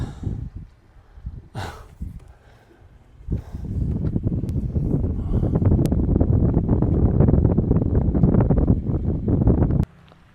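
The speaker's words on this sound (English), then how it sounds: "The wind is picking up and trying to challenge my anchoring skill." Wind gusting around an anchored boat, a soft rumble that swells into steady, loud buffeting against the microphone for several seconds before cutting off abruptly near the end.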